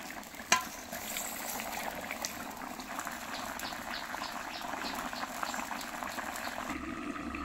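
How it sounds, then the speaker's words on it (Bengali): Fish curry simmering in a karai, a steady dense bubbling and soft popping that runs evenly throughout at moderate level, with no one talking. "তরকারি তো আমার খুব সুন্দর টকবক করে ফুটছে"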